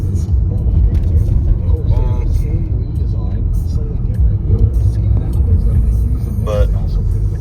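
Porsche car driving on a track, its engine giving a steady loud rumble and road roar throughout, with people talking over it inside the cabin.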